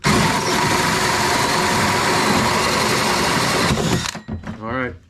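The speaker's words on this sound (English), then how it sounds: "Gotta be careful with the hole saws." A hole saw bores through a fiberglass kayak hull with a loud, steady grinding whine that runs unbroken for about four seconds, then cuts out abruptly. Someone speaks briefly afterward.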